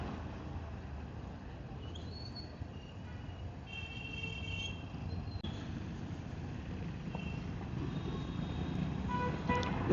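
Congested traffic on a one-way street near Guindy and Chintadripet: a steady, dense road rumble runs throughout, with a couple of brief, distant horn toots early on and a sharper sound at the very end.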